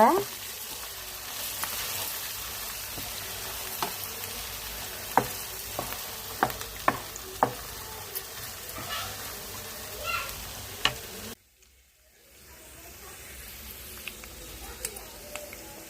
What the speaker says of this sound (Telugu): ఉల్లిపాయ మసాలాలు వేగినాయండి